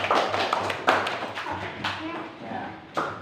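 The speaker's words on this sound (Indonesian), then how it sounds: "beri tepuk tangannya" Students in a classroom clap for a presenting group, a scattered burst of hand claps and taps with voices talking over it throughout.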